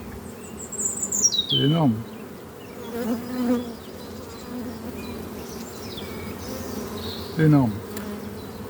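Honeybees hum steadily around an opened hive frame full of brood, a dense buzz running under people talking in French nearby.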